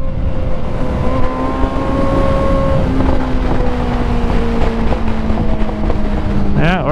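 A Ford Mustang GT accelerates hard through its gears, the loud engine tone climbing steadily and dropping at a shift before rising again, with heavy wind rush throughout.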